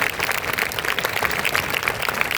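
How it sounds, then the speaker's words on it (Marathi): Audience applause after a school play, a steady dense wash of clapping for the actresses, loud and continuous from start to finish with no break. "यांच्यासाठी खरोखर जोरदार टाळ्या एकदा पुन्हा एकदा होत आहे"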